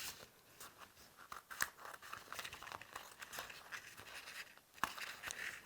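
Vinyl fabric is cut and trimmed for a mixed-media surface, giving soft, quiet crinkling and snipping with small crunchy rustles and a few sharper clicks, close by and alone.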